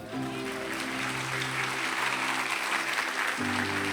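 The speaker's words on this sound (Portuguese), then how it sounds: "essa aí você podia aplaudir a Deus aqui" Crowd applause fills a church service, a steady, dense clapping that stays loud throughout, with sustained keyboard or organ chords ringing underneath.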